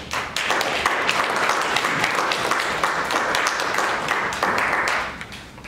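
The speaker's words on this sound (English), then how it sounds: "we just want to give a round of applause for all of those people that are doing the hard work" Audience at a community gathering on building Africa claps in a steady, dense round of applause that holds strong for about five seconds, then tapers off.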